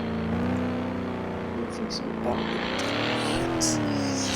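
Taxi engine revving up as it accelerates in the driving game Taxi Boss, a steady, loud motor tone rising in pitch, with a voice talking over it throughout.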